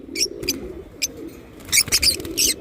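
A pigeon cooing close by in low, soft bursts, mixed with several brighter chirping calls that come and go in short clusters.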